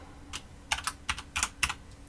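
Typing on a computer keyboard, close, crisp clusters of key clicks arriving in uneven bursts with short pauses between, and no talking.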